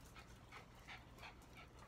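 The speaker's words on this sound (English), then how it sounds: "I can't film a video and have my dogs loose at the same time, because look at them." Two pet dogs pant and whimper softly, quick rhythmic breaths with faint whines, fairly quiet and close, with no talk.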